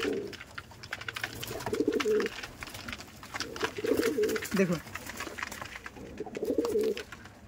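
Madrasi high-flying tournament pigeons, aggressive male and female pairs, coo in about three low, throaty bursts close by, under a voice talking.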